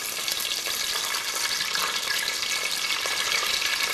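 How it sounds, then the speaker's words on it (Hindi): Whole garam masala and bay leaves frying in hot oil in a pan for chicken pulao, a dense continuous sizzle that stays loud and even throughout, with no voices. "एक दो मिनट मैंने साबुत गरम मसाला फ्राई किया। ये 2 तेज़ पत्ता हैं,"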